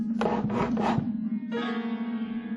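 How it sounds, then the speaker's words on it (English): A scrape across a wooden living room floor: three short rasping strokes in quick succession, then a sustained grinding drag, all over a steady low hum. "That was when I heard a scrape on my living room floor."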